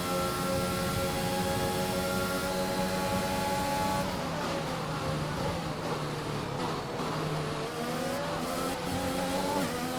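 A Formula 1 car in the F1 2021 racing game screams along at high revs behind another car, its engine whine steady and loud, then dipping and climbing again through gear changes, with faint tire noise.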